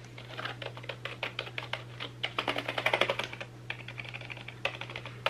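Fingers type quickly on a low-travel rubberized computer keyboard, a close, dense run of soft key clicks over a steady low electrical hum.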